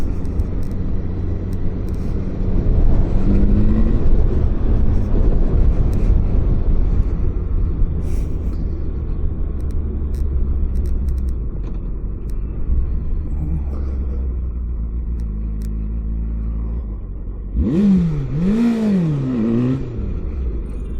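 A Yamaha FZ motorcycle rumbles and revs loudly and close during wheelie practice, with a steady low engine drone and a sharp rising rev burst near the end.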